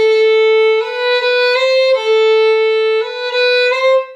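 Solo violin plays a slow, sustained passage from Elgar's Andante, Op. 22, with long bowed notes and clean changes between pitches, heard alone and close without any voices.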